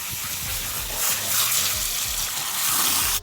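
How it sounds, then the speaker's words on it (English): Water gushes steadily from a hose, rinsing the root system of a giant wisteria stump outdoors in the rain, loud and continuous at close range with no talk. "I'm going to give the root system another rinse off"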